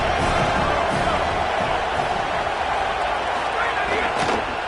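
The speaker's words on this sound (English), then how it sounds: "how nice is it to have the home crowd going absolutely bananas" A home crowd roars and cheers steadily through a college football video game broadcast, with TCU Horned Frogs fans loud and sustained as a dense wash of noise, and commentary voices over the crowd.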